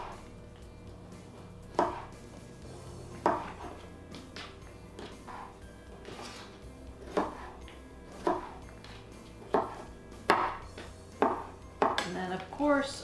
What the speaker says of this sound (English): So I'm just going to shred the carrot up. Chop up the cucumber.